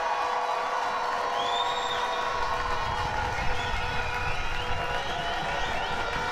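A crowd cheers and applauds at the BritBowl 2023 Division 2 British American football championship as the Shropshire Revolution acknowledge them, a loud dense roar with whoops and shouts across the stands.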